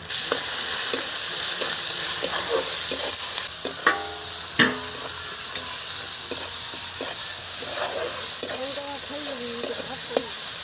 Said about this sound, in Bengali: দেখুন কত সুন্দর মশলা ভাজা হয়ে গেছে